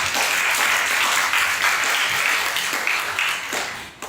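Conference audience at a high school students' event gives a big round of applause, a thick wash of many hands clapping at steady volume that softens slightly just before the end.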